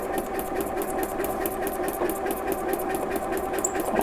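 A sewing machine runs steadily while stitching fabric during a beginner's practice exercise, giving a fast, even mechanical whir with regular needle pulses, close and on its own.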